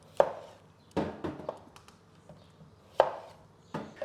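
Skin-on potatoes are halved with a knife straight into a pan for Greek-style roast lamb: several separate sharp knife chops on a board, close and distinct, spaced irregularly with quiet gaps between them.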